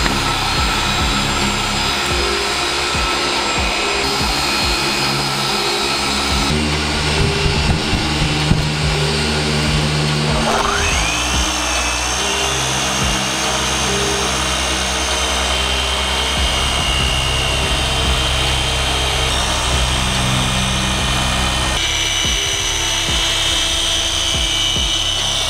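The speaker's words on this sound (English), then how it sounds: "Now I'm gonna go ahead and hit it with my microfiber and the DA and then go from there." A dual-action polisher with a microfiber pad runs continuously on the wet-sanded paint of a Hyundai Sonata. It gives a loud, steady motor whine and hum with shifting pitch and no speech.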